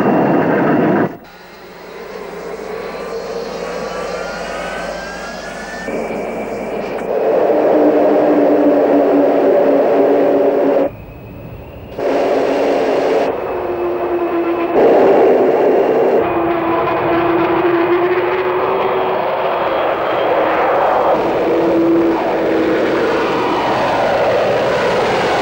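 Avro Vulcan bomber's jet engines during takeoff, a loud sustained roar with rising whine tones that swells and holds for over twenty seconds, briefly cut in places.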